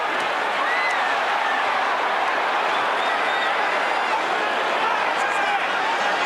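A big arena crowd at the Mike Tyson versus Larry Holmes boxing fight keeps up a dense, steady roar throughout, with broadcast commentary talking over it.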